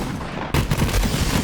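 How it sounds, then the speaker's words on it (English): Flakker shotgun from Borderlands 3 fires after a moment of muffled ambience, a loud burst followed by a string of bursting flak-like pops and rumbling booms spread across the next second. "Let's see if I can just shoot this and get an idea of the spread."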